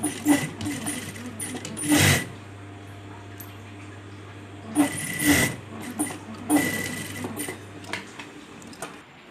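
A sewing machine stitches a denim bag made from a denim skirt-overall, running in short separate bursts with quiet pauses between them, close by, while a voice speaks faintly in the background.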